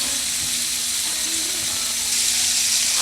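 Shrimp seasoned only with salt and pepper sautéing in a pan until pink, a steady close hiss and sizzle with a faint hum underneath and no talking.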